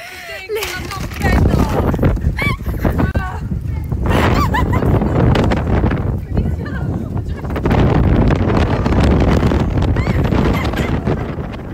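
Strong wind buffets the microphone outdoors in loud, continuous gusts, while people talk in French over the roaring, blustery noise.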